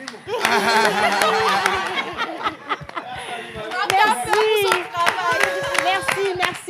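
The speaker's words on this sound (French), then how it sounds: "Est-ce qu'on va applaudir Mario?" An audience at a live French-language show claps for a child, the uneven clapping mixed with chuckles, laughter and a voice talking over it.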